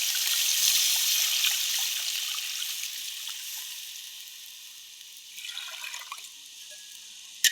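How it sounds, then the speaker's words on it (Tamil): Tamarind water is poured into a pan of fish curry, a steady splashing trickle that gradually fades as the pour thins out, ending with a few faint clinks and drips. "புளியை ஊற்றிக்குவோம் மக்களே."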